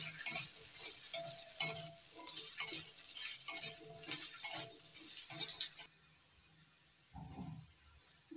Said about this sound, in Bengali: ওই তেলের মধ্যেই গাজরগুলো ভেজে নিচ্ছি একটু